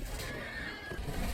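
A horse neighs during a joust scene in House of the Dragon, a drawn-out whinny carried over a busy crowd-and-arena background, with faint hooves near the end.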